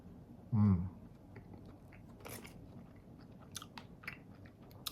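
A single loud crunchy bite into a Palm double chocolate ice cream bar with its chocolate coating, followed by faint chewing and small crackles over quiet room sound.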